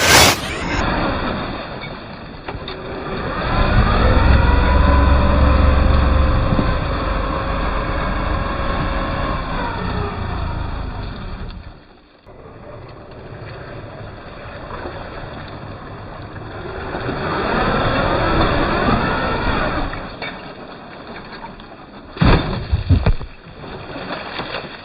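A mega monster trail truck churns through mud and a creek, its engine roaring loudly with splashing water and surging revs that rise and fall across the run, plus a few sharp knocks near the end.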